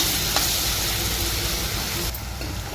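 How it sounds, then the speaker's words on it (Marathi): Tomato, garlic and peanut gravy frying in a pan, a dense continuous sizzle and bubbling hiss, close and steady, easing slightly near the end with no talking. "ग्रेव्ही छान अशी तळते."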